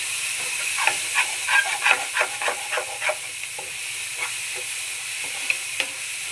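A rice mixture fries in oil in a pan, a soft steady sizzle and hiss under a series of spoon scrapes and stirring taps, close and moderately loud, with no one speaking.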